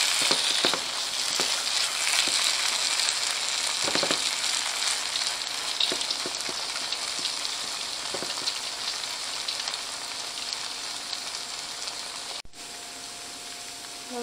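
Masala okra (bhindi) cooks covered in oil on a medium flame, giving a steady, close, dense sizzle with faint crackles throughout and a brief dip near the end.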